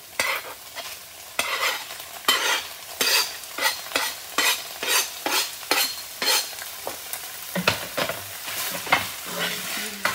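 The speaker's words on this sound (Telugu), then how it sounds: "మంచిగా మిక్స్ చేసేసుకుని కొంచెం ఫ్రై చేస్తాను" Shredded tofu is stirred and fried in a pan, with a rhythmic series of scraping spatula strokes about every half second over a soft sizzle, close and fairly loud, no voice.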